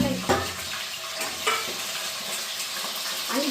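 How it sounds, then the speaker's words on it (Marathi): Drumstick pods fry in hot oil, a steady close crackling sizzle with a few louder pops near the start, running continuously without speech. "तर आता मी याच्यामध्ये टाकते शेवग्याच्या शेंगा, म्हणजे धुवूनच ठेवलेल्या आहे मी त्या. तेल आपलं ना मस्त कडकडलंय"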